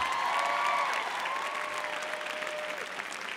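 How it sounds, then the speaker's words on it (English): A commencement crowd applauds in a continuous wash of many hands, fairly distant and even, with a whistle-like tone gliding through and fading. "Can I ask for another round of applause for Greg and Sally"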